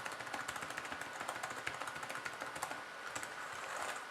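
Rapid, firm keystrokes clack on an Alcatroz Air_Pad 1 keyboard in quick irregular bursts, close up and fairly quiet, with no talking.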